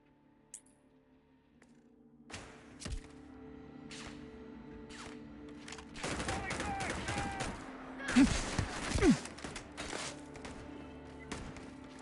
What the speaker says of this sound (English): Shooting should start to die out